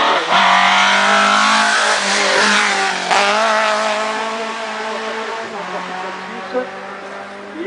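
Matra-Bagheera race car number 582 passes close by with a loud rising engine roar that fades as it drives on, while a commentator talks over it.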